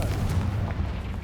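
Confringo blasting spell going off in Hogwarts Legacy: a short, dense burst of low rumbling explosion noise that stays loud and rough for about a second.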